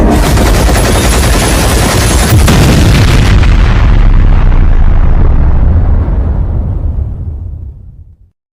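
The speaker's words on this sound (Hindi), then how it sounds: "उड़ा दो इसे।" A loud, close blast of explosions and rapid gunfire roars continuously, then trails off into a long fading rumble.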